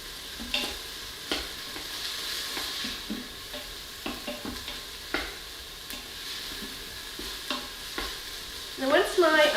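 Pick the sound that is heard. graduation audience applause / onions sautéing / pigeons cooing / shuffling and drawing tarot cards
onions sautéing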